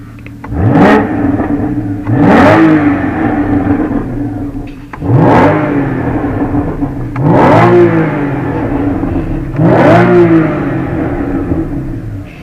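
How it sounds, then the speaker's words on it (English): A Porsche Spyder engine with an Akrapovic sport exhaust engaged revs repeatedly, five sharp throttle blips rising and falling over a steady loud idle, with a rumbling exhaust note. "that's with sport exhaust engaged and the exhaust button"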